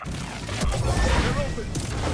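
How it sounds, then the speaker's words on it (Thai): An explosion in Star Wars Jedi: Survivor: a loud, sustained rumbling blast with crackling, debris-like bursts throughout. "มันระเบิดด้วยเลย"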